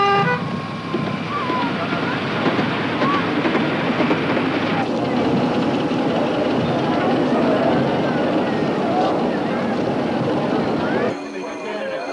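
A miniature diesel locomotive on 7¼-inch gauge track chugs and rattles steadily along with a clacking, rumbling drone, then cuts off near the end; a voice is heard faintly.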